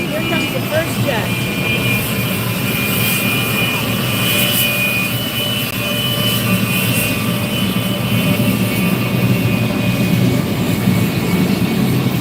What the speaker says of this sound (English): Here comes the first jet.